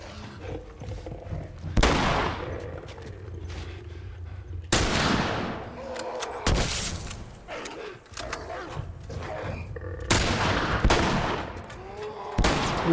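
Rifle shots in The Last of Us Remastered ring out as several loud, sharp cracks spaced a few seconds apart, each trailing off, with game ambience and scattered noises between them.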